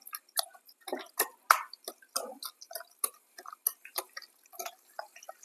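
Thick ragi (finger millet) batter mixed with curd is worked with a spoon in a bowl, giving a run of wet, squelchy clicks and small splats at a steady, uneven pace with no talk.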